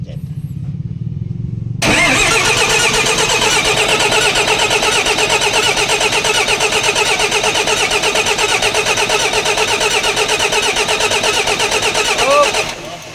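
A FAW CA6DL2-37E3F diesel truck engine, just given a top overhaul, cranks and fires after a short whir, then settles into a loud, steady, rattling idle that runs on.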